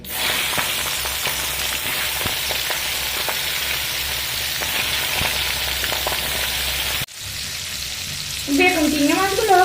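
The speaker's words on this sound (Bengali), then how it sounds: "এবার আমি এখানে চিংড়ি মাছগুলো ভেজে নেবো" Steady, loud sizzling of small prawns frying in hot oil, with occasional stirring clicks; after a short break, someone speaks over the continued sizzle.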